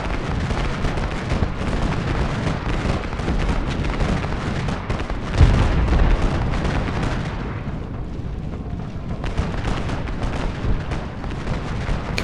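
Artillery fires in the Civil War strategy game Ultimate General: Gettysburg, a dense, continuous rumble of distant cannon booms and musket crackle with one sharper blast partway through.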